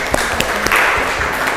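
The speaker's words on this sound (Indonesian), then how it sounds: "tepuk tangan." A short burst of applause from an audience at an Indonesian teacher-training class presentation, steady, close clapping that lasts under two seconds.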